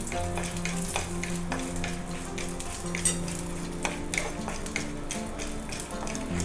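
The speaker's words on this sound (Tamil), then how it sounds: "பெருங்காயம் அப்புறம் வரமிளகாய் ஃபர்ஸ்ட் அது ரெண்டுத்தி வறுத்து எடுத்துடலாம்" Asafoetida and dried red chillies fry in sesame oil, a low steady sizzle broken by scattered pops and small clinks of stirring, close by with no talking.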